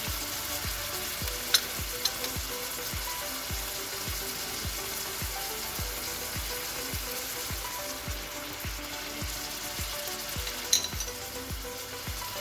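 Chopped jam tomatoes frying in a pan give a steady, dense sizzle like light rain, close and constant, with a couple of brief sharp utensil clinks as they are stirred.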